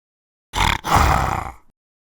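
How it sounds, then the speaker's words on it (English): A creature lets out a deep, tiger-like roar in two bursts, the second longer and fading away, loud and close against silence. "It makes the noise like a tiger, but it walks like a bear."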